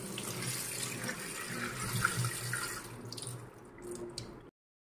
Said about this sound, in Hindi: तो हम इसे नल के नीचे से धो लेते हैं।